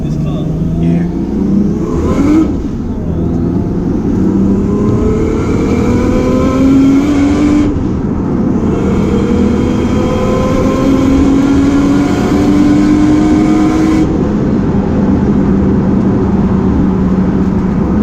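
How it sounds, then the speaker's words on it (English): A 700bhp Nissan Skyline engine revs hard and accelerates, loud and close, with rising tones that drop back at each gear change across the run, while people talk over it inside the car. "it's proper noisy, isn't it, this car?"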